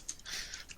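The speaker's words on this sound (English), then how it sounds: "I just hear Josh's keyboard furiously typing away" Computer keyboard typing, a quick faint run of soft clicking keystrokes heard from a distance, lasting under a second.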